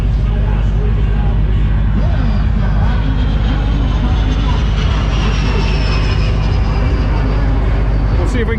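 Loud, continuous roar of a drag car with a 396 engine idling and rumbling nearby, a dense rough low throb with steady intensity throughout and a faint crowd murmur beneath.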